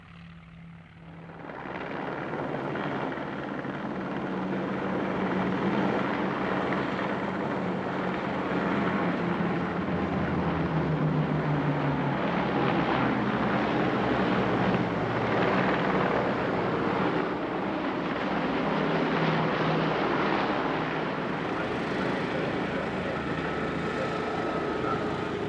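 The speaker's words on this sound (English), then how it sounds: "In this flypast, the tracker deploys its Sting, the magnetic anomaly detector." A Grumman Tracker anti-submarine aircraft makes a flypast at an airshow, its piston engines and propellers roaring loudly and steadily after a quick rise, with the pitch shifting as it passes.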